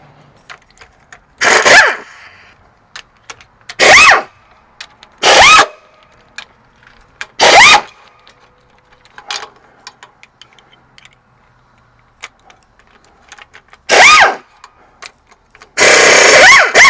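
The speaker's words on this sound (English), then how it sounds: "Let me grab the impact." An impact wrench removes bolts from a 1984 Kenworth K100 cabover truck, firing in six loud, separate bursts of hammering rattle, each a second or so long, with quiet pauses between and a longer final burst.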